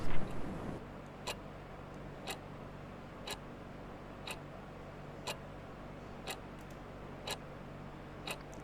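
A clock ticks in the horror video game Love, Sam: about eight sharp, evenly spaced ticks roughly one second apart, loud and close over a low steady hum, with no talking.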